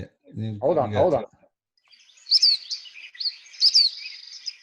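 A black phoebe gives two sharp, high, buzzy two-part calls in the open, fairly clear and close, after someone briefly speaks.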